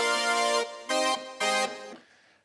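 A Roland Juno-6 synthesizer patch with chorus and LFO modulating pulse width, an 80s-style tone: three bright, buzzy sustained notes with short gaps, the final one releasing into a soft fading tail, heard alone.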